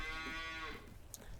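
Cows on a farm in Farming Simulator 19 give a long, near moo that fades out, followed by fainter shuffling.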